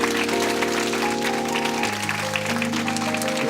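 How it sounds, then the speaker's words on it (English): Congregation applause at a Sunday church service, a continuous wash of clapping layered over sustained organ or keyboard chords that shift midway. "let's have a big round of applause"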